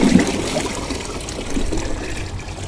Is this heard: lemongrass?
no